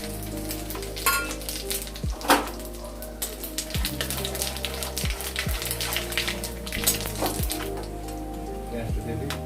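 Bay leaves, dried chillies, cinnamon, cardamom and cumin sizzle and crackle in hot oil, a steady close frying hiss broken by sharp pops and clatter, with a voice speaking over it.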